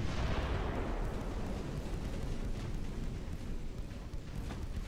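Naval guns fire in a warship battle in the Ultimate Admiral Dreadnoughts video game, a heavy blast opening into a long, rumbling roar that slowly fades.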